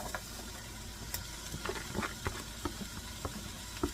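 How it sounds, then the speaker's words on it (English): Peppers and onion sizzle softly in a pan, a steady low hiss broken by scattered clicks and scrapes of stirring, close and fairly quiet, with no one talking. "let's go in with the peppers and onion and get that cooked down"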